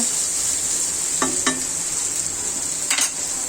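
Dried ribbonfish (churi shutki) stirred in a sizzling pan with turmeric and cinnamon: a steady, bright hiss with a few sharp clinks and scrapes of a utensil against the pan, close, with no speech.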